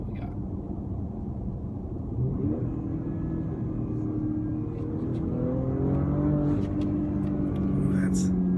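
A 2019 Porsche Panamera E-Hybrid engine rumbles and builds as it accelerates in Sport Plus with manual shifting, its revving tone climbing steadily, with faint murmured speech over the road noise.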